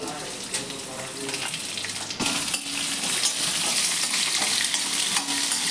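Sliced onion and garlic frying in a pan for a tomato bath dish, a steady close sizzle that grows louder partway through as the pan heats, with no talking.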